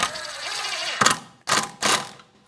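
A 10 mm socket ratchet tightens a bolt at the rear hub of a 2013-2018 Toyota RAV4 2.5L, giving three close, loud bursts of clicking after a stretch of steadier mechanical noise.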